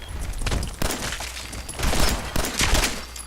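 Bug gun fired in Fallout 4: a burst of loud, rapid blasts, with clusters of bangs near the start, middle and end over a rumbling low layer, close and punchy.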